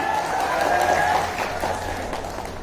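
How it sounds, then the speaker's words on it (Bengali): An audience at a workshop on digital marketing and AI claps together in a steady, dense round of applause, filling the room evenly and close at hand, with no talk over it. "সো আপনাদের জন্য জোরে করে তালি।"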